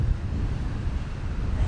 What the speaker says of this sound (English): As you can tell, it's really windy now.